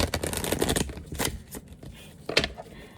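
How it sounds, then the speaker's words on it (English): Playing cards riffle and shuffle in several quick bursts, with brief pauses between them, heard up close. "I cannot shuffle my cards very well."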